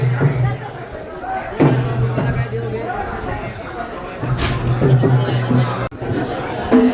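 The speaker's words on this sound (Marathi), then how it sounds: "एवढी गर्दी आहे" A crowd of visitors at the Jejuri Khandoba hilltop temple near Pune fills the air with continuous chatter and hubbub, while a nearby voice talks over it and occasional knocks ring out.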